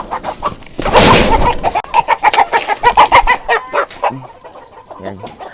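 Large production-type chickens cluck loudly and close by in a steady run of calls, with a brief burst of flapping or louder squawking near the start and fainter clucks trailing off toward the end.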